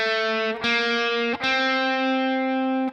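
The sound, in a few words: guitar playing a song's tab with string bends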